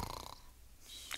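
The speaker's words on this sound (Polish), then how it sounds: "dopóki nie usłyszał ich chrapania." Two men snoring while asleep after retiring for the night in a hut, a short breathy rasping snore heard close up with faint background noise.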